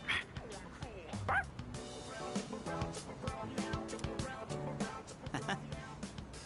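Video game dog sounds, a run of yips, short barks and whimpering whines repeating through the clip, close and fairly loud over in-game music and effects.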